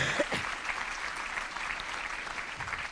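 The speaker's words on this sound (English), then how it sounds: "I'd ask us that we give a round of applause to those sponsors as well" Audience applause at a Public Safety and Community Appreciation Luncheon, a dense, even roomful of clapping held steady for a few seconds at moderate volume, with faint murmurs underneath.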